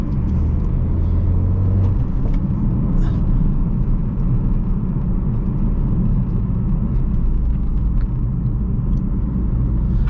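A 2017 Ford Focus RS being driven, heard as a steady, loud engine and road drone with a low rumble that stays constant throughout, with faint clicks and knocks on top.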